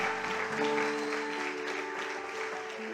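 Church congregation applauding during a Sunday service, a steady wash of clapping held at even loudness for the whole stretch with sustained musical tones, likely keyboard, running underneath.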